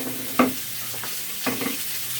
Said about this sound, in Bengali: সব এক এক করে ভেজে নিচ্ছি।